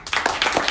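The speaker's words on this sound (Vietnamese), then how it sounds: "hãy dành một tràng vỗ tay thật lớn" Brief burst of audience applause at a seminar on modern financial investment channels, steady dense clapping filling the short moment without voices over it.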